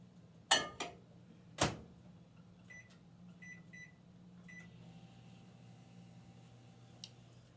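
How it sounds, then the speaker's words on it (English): Microwave oven softening cream cheese, heard faintly: a couple of door clunks, then a short series of electronic beeps over a low, steady running hum. "we are going to put this in the microwave and microwave it for 2 minutes"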